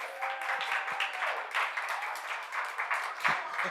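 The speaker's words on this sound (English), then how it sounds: "I got an applause." Brief applause during a radio talk show, a short burst of clapping that sounds like a recorded sound effect, with voices of the hosts mixed in underneath.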